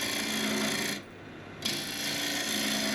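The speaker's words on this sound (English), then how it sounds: "grab my bowl gouge again and just round it off." A bowl gouge rounds off a spinning piece of wood on a lathe, producing a continuous, loud rasping cut close by, with a brief lull midway and no talk.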